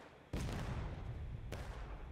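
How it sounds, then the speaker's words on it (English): Two booming cannon shots in a Civil War battle video game, the first sudden and loud after a quiet moment, then a rumbling tail before a second sharp blast about a second later. "Well, the Union cannon just hit somebody."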